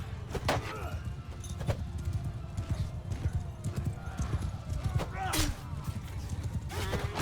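Horse hooves clatter in rapid clip-clop rhythms with brief neighs amid a medieval battle in Mount & Blade II: Bannerlord, close and busy, with someone talking over the action.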